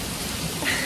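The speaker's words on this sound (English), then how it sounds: "it's raining cats and dogs" Heavy tropical downpour in Weligama, Sri Lanka, a loud, dense, unbroken roar of rain close by with no pauses and no talk.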